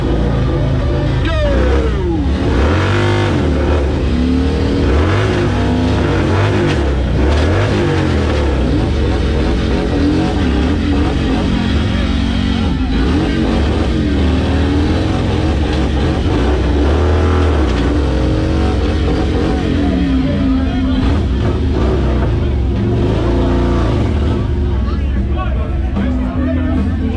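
Harley-Davidson motorcycles drag racing at the Stubborn American Rally give a loud, sustained engine roar that climbs through the gears over a long stretch, with crowd noise and voices mixed in underneath.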